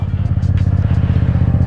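A motorcycle engine idles in first gear up close, a loud, steady, rapid throbbing pulse with a faint clatter throughout.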